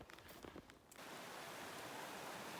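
Rain falls steadily on a mountain meadow trail in the Canadian Rockies, a soft, even hiss that fills in after a moment of light clattering, quiet and continuous with no voices.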